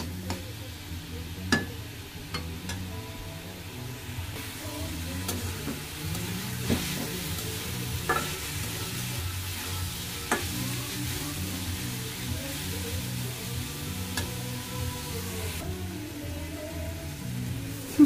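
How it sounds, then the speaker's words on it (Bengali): Papaya stir-fry frying in a pan on a stove, a steady soft sizzle with occasional scraping stirs and light clicks throughout, fairly quiet and close, with no talking. "পেঁপে ভাজিটা ওই চুলায় করে নিছি"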